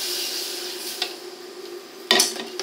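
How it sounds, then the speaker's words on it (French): A spoon stirs roux and milk in a pan for a béchamel, giving a soft steady scraping with a light sizzle underneath, broken by a sharp metallic clink near the end. "Et maintenant, on mélange jusqu'à ce que ça épaississe."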